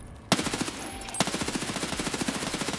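Rapid automatic gunfire in the video game Escape from Tarkov, set in the Labs map, two loud bursts of evenly spaced shots with a brief gap between them, no talk over it.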